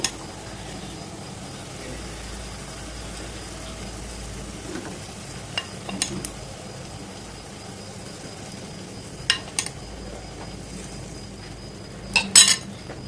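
Beaten egg batter for egg rice sizzles steadily as it is mixed and fried in a pan, with a few brief clinks of a spoon against the metal.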